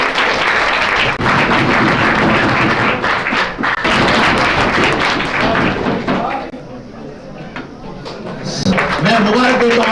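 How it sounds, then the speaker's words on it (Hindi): Audience clapping at a school zonal-level competition, a dense sustained burst of many hands that thins briefly midway before swelling again, with voices mixed in. "तालियां बजाएं।"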